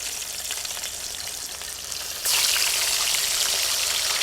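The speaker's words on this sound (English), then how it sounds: "Sometimes doctor fish are hard to fry, you know." Seasoned doctor fish frying in oil in an outdoor riverside cook-up at Ocho Rios, Jamaica: a steady, close crackling sizzle that turns noticeably louder and brighter about halfway through, with no talking.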